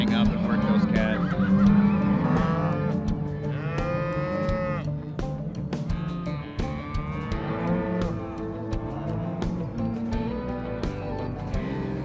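Cattle moo loudly and repeatedly as ranch hands push cows out of a pen and hold the calves back for roping and working. Overlapping calls come from several animals, near and far, with geese-like honks mixed in.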